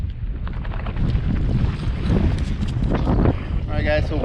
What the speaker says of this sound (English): so wind just picked up